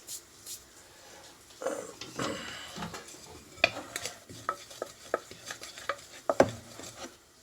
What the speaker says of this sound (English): And then gonna mix that all together